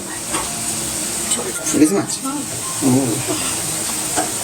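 Hilsa fish pieces sizzle and hiss in hot oil for an Alu Begun Ilish Jhol, a steady frying crackle with brief bursts as pieces go in, while people talk over it.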